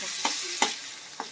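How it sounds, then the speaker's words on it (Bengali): Chow mein noodles stir-fried in a pan, with a steady background sizzle broken by three short, sharp scrapes of a utensil against the metal, spaced unevenly. "খুব সুন্দর বানাচ্ছে চাউমিন"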